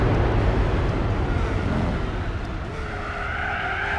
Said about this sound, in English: It's getting away because the slipstream noise has gotten louder.